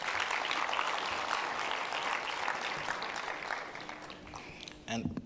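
A conference audience at the SATVETSA 2024 event applauding, a dense, sustained round of clapping that fades toward the end before a voice breaks in.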